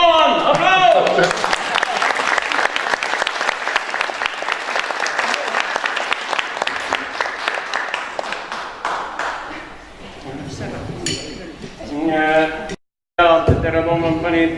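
Concert audience at a Keskerakond concert tour event in Haapsalu clapping loudly and densely for several seconds, then thinning out as a voice starts talking and cheers rise near the end.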